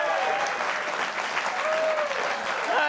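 A television studio audience gives a continuous, full round of applause, a dense even wash of many clapping hands with faint cheering mixed in, sustained throughout.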